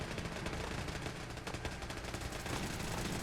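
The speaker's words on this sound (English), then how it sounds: "Listen to that gunfire." Dense, continuous automatic gunfire and turret fire roar through a video game battle, a steady wall of rapid shots with no pauses.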